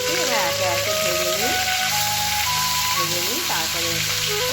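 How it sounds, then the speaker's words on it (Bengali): Sitring fish fry in hot oil in a pan, a loud continuous sizzle close by, with a melodic music track running underneath. "এটা হচ্ছে সাইড্রিং মাছ আর ভাজা করছি"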